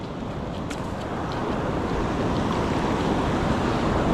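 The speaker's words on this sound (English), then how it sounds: "Good thing the waves aren't very strong out here right now." Ocean waves wash on a beach as a continuous broad roar that swells slightly louder toward the end, with faint clicks and no talking.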